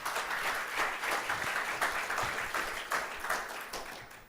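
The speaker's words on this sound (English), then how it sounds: "Round of applause for Paolo," Sustained audience applause at a tech conference session in Lisbon, dense steady clapping from a large crowd, filling the whole stretch with no talk.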